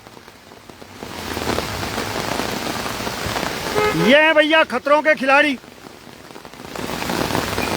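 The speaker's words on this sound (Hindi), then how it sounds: "बारिश और तेज हो गई" Heavy rain pouring steadily onto a flooded road beside an overflowing drain in Raipur, a dense continuous hiss, with a voice speaking briefly midway over the downpour.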